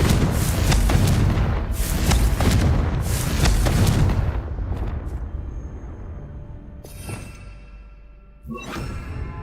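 A Confringo fire spell blasting in Hogwarts Legacy, with loud repeated booming bursts that fade into a rumbling tail, followed by softer magical whooshes and chimes.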